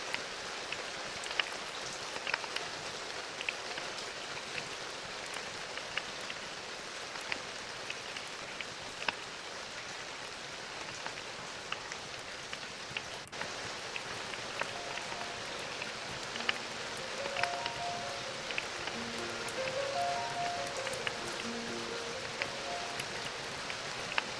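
Soft, steady rain falls continuously, a gentle hiss of drops with faint piano notes drifting in during the later part.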